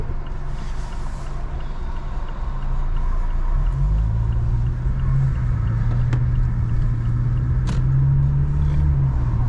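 Many cars in a parking lot, a continuous low engine rumble from a vehicle idling and creeping along, with faint clicks and no talking.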